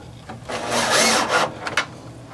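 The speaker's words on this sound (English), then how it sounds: "So I'll just go ahead and run those screws in." Screws being driven into a wooden headboard, a continuous whirring, grinding bite of a driver and screw into wood that swells to a loud peak mid-way, then tails off with a couple of short bursts near the end.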